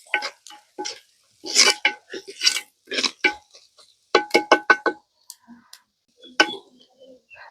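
Onions, green chillies and mustard seeds stirred in a pan while cooking a village-style squid curry: close, irregular clicks and scrapes of a spoon against the pan in short bursts, with no talking.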